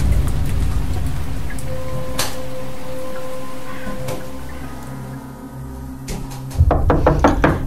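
Knocking on a door during rain in a radio horror drama set in a boarding-house room, sharp raps standing out over a steady rain hiss and low hum, ending in a louder flurry of knocks.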